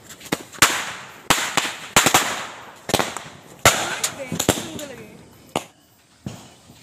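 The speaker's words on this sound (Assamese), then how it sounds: "এই বোমা বিস্ফোৰণ কাৰ্যসূচীটো প্ৰথমতে এই সৰু বোমেদি আৰম্ভ কৰোঁ" Small Diwali firecrackers burst in a sharp irregular series of loud close bangs, several in quick pairs, each with a brief crackling tail and quiet gaps between.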